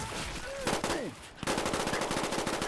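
Rapid automatic fire from a summoned high-powered gun in Garry's Mod, loud fast bursts with a short break, then a steady rattling stream, with brief whooshing and synthetic tones mixed in.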